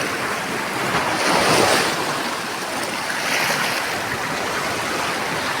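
Sea waves surge onto a crowded shoreline where shells are gathered, a continuous loud broadband roar that swells twice and is buffeted by wind noise on the microphone, with no voices.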